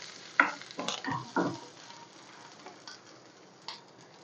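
Curry leaves and a little tamarind fry in a pan for peanut chutney, giving soft sizzling with a few sharp crackles and stirring clicks early on, then fading to a quieter hiss.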